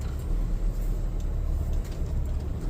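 Car rolling slowly onto a pre-cut grass driveway at a summer meadow, a steady low engine rumble with faint crunching, close and continuous throughout.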